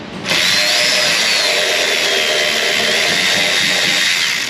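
A power tool with a wobble socket spinning out a bolt on a Silverado Duramax 6.6 L5p, a loud steady high whir that starts abruptly and holds without break, close up.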